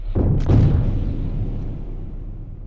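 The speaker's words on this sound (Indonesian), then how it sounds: "Mendengar suara tembakan" A single gunshot in a film scene, a police officer firing at a woman who has raised her weapon; one sharp loud report with a booming low tail that fades slowly over a couple of seconds, no talk.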